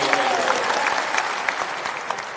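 A crowd claps loudly and steadily at a state-level Jan Suraaj workshop in Patna's Bapu Sabhagar hall. The applause is close and continuous, with a few sharper claps standing out.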